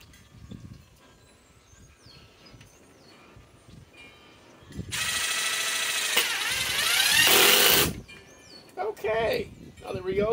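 Ryobi impact driver hammering a screw into sheet metal, a loud close burst of rattling impacts lasting about three seconds between stretches of quiet speech and faint background noise.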